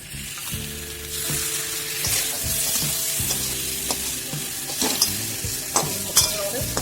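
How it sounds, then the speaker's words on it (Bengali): Flour stirred into butter and garlic potatoes frying in a pan: a steady sizzle under repeated scraping strokes of a spoon, with sharper clatters toward the end, close and fairly loud, no talking. "আমাদের খোলা ময়দাটা হালকা হালকা করে মিশিয়ে দেবো"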